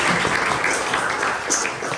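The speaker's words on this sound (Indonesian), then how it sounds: "Tepuk tangan untuk Romo Edi." Audience applause for a priest, Romo Edi, at a Christmas greeting event at SMP Kanisius Wate school, a steady dense wash of clapping lasting throughout, moderately loud and slightly roomy.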